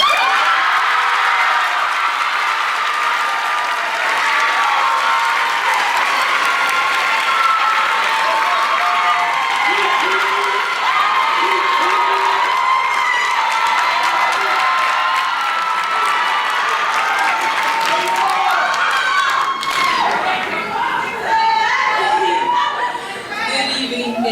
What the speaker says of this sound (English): Please join me as we applaud the exceptional accomplishments of our valedictorian, Michaela Gandy